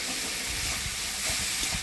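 Ground spice paste of coriander, cumin, ginger and chili, with turmeric, salt, a splash of water and a little sugar, fries in a pan with a loud, steady, close sizzle throughout.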